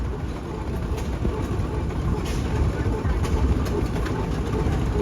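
A 1928 Rumely OilPull Model Y tractor rolling past at an antique tractor show, a steady low rumbling engine drone, fairly loud and constant under crowd noise and a voice.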